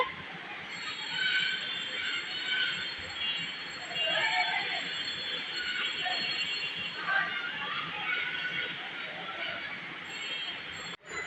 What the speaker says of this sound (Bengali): এই তো তেলের উপরে এখন এক এক করে আলুর চপগুলো ভেজে নিচ্ছি